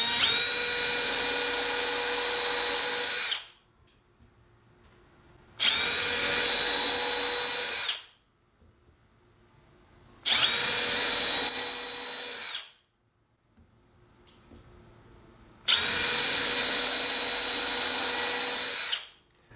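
Power drill boring 2.5-inch holes at the corners of ceiling brackets for an overhead garage lifting storage rack, four loud bursts of about three seconds each, split by short quiet gaps.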